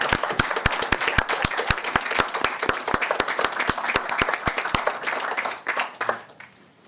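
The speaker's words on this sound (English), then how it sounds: "I'd like to give her a round of applause too for just some really good work." At a county board of supervisors meeting, an audience gives a round of applause: close, rhythmic, sharply defined claps keep a steady beat for several seconds, then thin out and fade.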